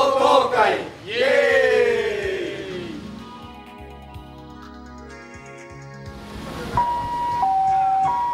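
A Japanese ambulance siren wails in rising and falling sweeps at the start, then fades under a crowd and background music, with electronic tones near the end.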